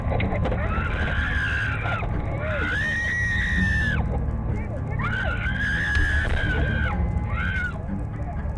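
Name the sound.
woman screaming during robbery in dashcam footage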